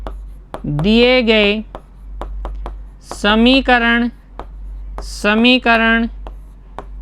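Writing an equation on a classroom board comes through as short scratchy strokes and sharp taps, scattered between and under a teacher's ongoing speech.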